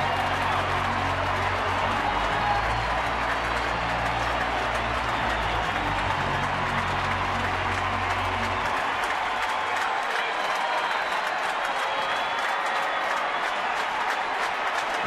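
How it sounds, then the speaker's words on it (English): Baseball stadium crowd at Milwaukee at San Francisco, applauding and cheering a 3-0 pitch; a broad, loud, sustained wash of clapping and crowd roar that continues for the whole stretch, dropping slightly in low rumble partway through. "You can close your eyes and the crowd will tell you what this pitch is, whether it's a ball or a strike"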